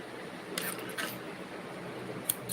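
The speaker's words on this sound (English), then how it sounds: "cut your yarn" A few quick snips of scissors cutting crochet yarn, sharp and close, two clusters early on and one lone snip near the end, over a quiet room background.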